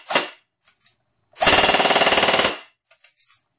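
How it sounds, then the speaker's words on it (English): Battery-powered airsoft gun firing: a single sharp shot, then a loud rapid automatic burst of about a second, followed by faint clicks. "I had to put the battery in and see what it sounded like shooting"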